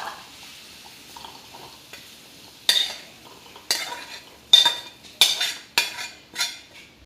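Fried chickpeas (chana) being scooped from a pan into a bowl, with a series of close, sharp scraping and clinking strikes of a spoon against metal, coming in irregular bursts about once a second after a quiet start.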